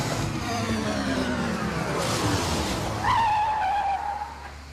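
Turbocharged BMW racing car with an M10-based engine accelerating hard on a racetrack, a loud continuous roar with a rising whine and a brief tyre squeal near the end, close and without speech.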